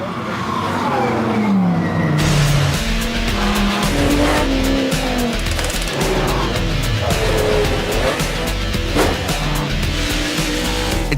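GT3 supercars such as Ferrari, Porsche, Lamborghini, Chevrolet, Dodge, Maserati, Ascari and Aston Martin race flat out in a European Championship race, with loud continuous engine roar, rising and falling revs and gear changes, and squealing tyres throughout.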